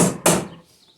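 A hammer strikes a cotter pin through a wheelbarrow axle: one sharp, loud metallic impact that rings briefly and fades, with a softer knock just before it.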